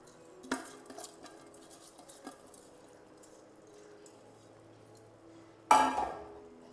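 Soaked rice and other ingredients tipped into a pressure cooker for tomato pulao, heard as a few soft clinks and scrapes of metal utensils, then one sharper clattering splash near the end, over a quiet kitchen background.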